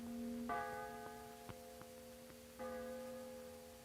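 Church bells ring out in a few spaced strikes, their tones lingering and fading in a quiet setting.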